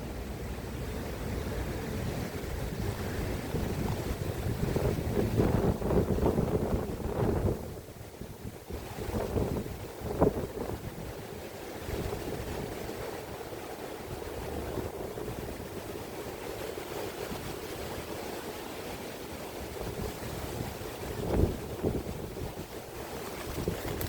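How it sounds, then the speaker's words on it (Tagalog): Strong wind buffets the microphone on a river, a steady roaring rush with gusty surges and a faint watery wash beneath, and no one speaking. "sobrang lakas po ng hangin ngayon dito sa ilog"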